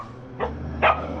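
Wild dogs fighting and barking at night beside a tent in Nepal: two sharp barks about half a second apart, fairly close, over a low steady hum.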